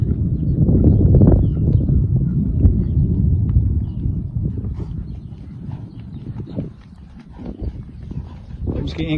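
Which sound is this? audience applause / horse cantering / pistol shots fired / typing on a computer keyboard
horse cantering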